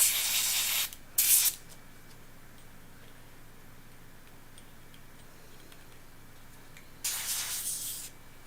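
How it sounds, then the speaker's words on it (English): Airbrush cleaner sprays out in three short, loud hissing bursts, two close together at the start and a longer one near the end, with a faint quiet hum between them. "Don't huff your airbrush cleaner."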